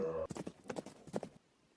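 Horse hooves clip-clop in a quick, close rhythm as a prince rides off toward a sinister fortress, a few sharp hoofbeats after a brief tonal sound, then fading to near silence.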